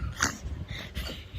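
A dog growls and snorts low and close, a rough rumbling breath that rises and falls in short bursts, heard alone.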